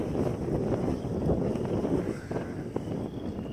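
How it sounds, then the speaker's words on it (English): A gust of wind buffets the microphone outdoors on a pig farm, a continuous rough rumble that swells and eases over a few seconds. "Let this gust go by."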